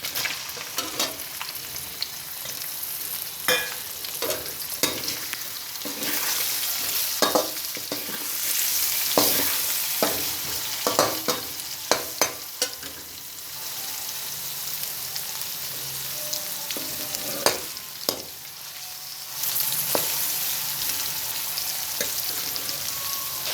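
Onions fry in hot oil for masala, sizzling steadily while a utensil scrapes and stirs through the pan in irregular clatters, close up, with no talk.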